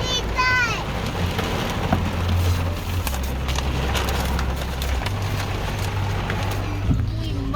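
Heavy rain pours steadily during a windstorm in London, Ontario, a dense continuous wash with a low rumble beneath, while a vehicle backs up somewhere in the downpour and a voice speaks briefly near the start.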